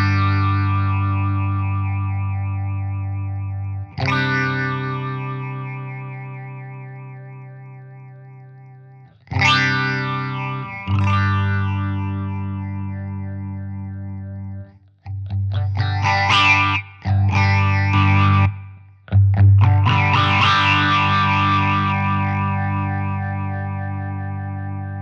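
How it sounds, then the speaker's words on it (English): A vintage EHX Poly Phase phaser pedal with auto wah envelope on a guitar rings out sustained chords that sweep and close down, struck every few seconds, then quicker stabs near the end, alone and loud. "you sort of get this phaser going wah, wah, wah, wah, wah, but you also sort of get this auto wah envelope closing down of phase as well"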